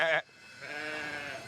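Sheep or goats bleat in a field at a rural moonshining spot, one loud, wavering bleat up close followed by a quieter, more drawn-out call, with no talk over them.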